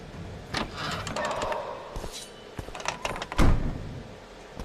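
A door opening in The Witcher 2, heard as a sequence of clicks and knocks followed by a heavy thunk near the end, moderately loud over a quiet background.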